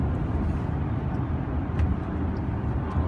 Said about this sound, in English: let's get all the way up to 120. And you can listen to what the car sounds like.